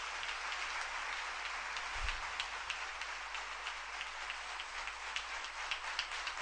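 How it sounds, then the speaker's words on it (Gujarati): A religious gathering at a Guru Purnima festival at Vadtal breaks into steady, continuous applause from a large audience, heard at moderate distance as an even wash of many hands clapping, with no talk over it. "આપણે તાળીઓના નાદથી એમને વધાવીએ."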